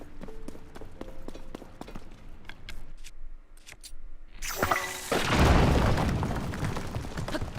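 A bomb flower blows up in Zelda: Tears of the Kingdom, a loud broad blast swelling after quieter clicks and footstep-like taps, then a rumbling tail.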